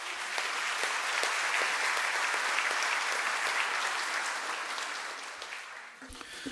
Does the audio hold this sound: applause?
yes